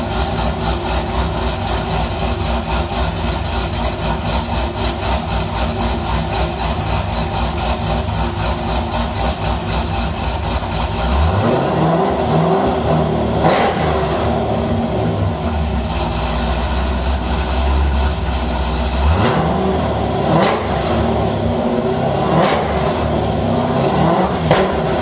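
A 1964 Corvette engine on open headers idles with a fast, lumpy rumble, then revs up repeatedly in sharp bursts. It sounds loud and close throughout, and no one speaks.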